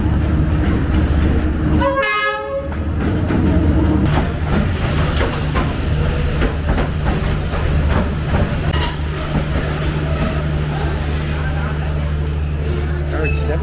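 A premium luxury train from Hue to Hanoi in Vietnam, with a loud blast of the horn early on over the steady roar and rumble of the moving train, close and continuous, with people talking.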